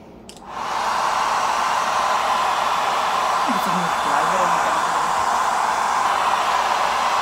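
A hair dryer blows steadily and loudly, starting after a brief quieter moment and holding a continuous broadband whoosh to the end, with no voices over it.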